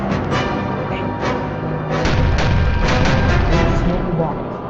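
Small bombs burst one after another in a wartime documentary about Japan's empire, heavy booming blasts over a rumbling low background, growing louder and denser toward the end.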